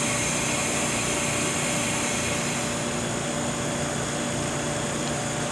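MBraun Labmaster 130 glovebox blower running steadily, a constant broadband whooshing hum with faint tonal whine, close and unchanging throughout, no talking.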